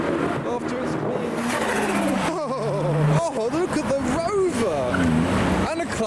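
A Nissan Skyline R32 engine runs and revs at night, a steady close mechanical drone with shifting pitch heard under excited, continuous talking from people inside the car.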